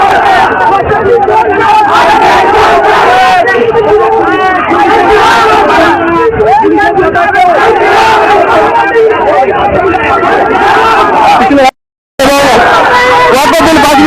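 Massive street protest march in Kolkata against a bill, with a loud, close crowd of many voices shouting and chanting together over traffic, a brief dropout near the end before the roar resumes.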